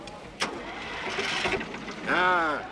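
A tractor engine cranks and catches, its noise swelling into a rising, strained whine that grows louder toward the end.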